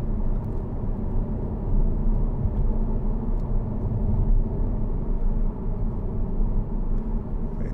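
A 2012 Jaguar XK 5.0 V8 Portfolio is driven on the road, with a steady broadband engine and road rumble that stays even throughout and carries no talk.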